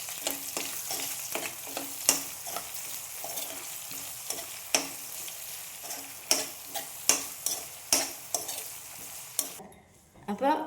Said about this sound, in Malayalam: അതേപോലെ തന്നെ പച്ചമുളകും ഒന്ന് ജസ്റ്റ് ഒന്ന് വഴറ്റിയെടുക്കാം